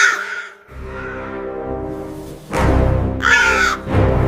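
A cartoon crow caws loudly, a harsh call, then a break filled by a low tone, then two more strong caws close together, with nothing else over them.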